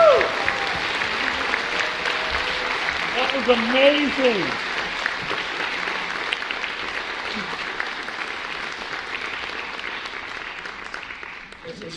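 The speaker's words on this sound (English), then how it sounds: "Can we get a round of applause?" Audience applause and cheering at an education event, a loud, dense wash of clapping with whoops and a brief voice speaking over it, slowly fading across the stretch.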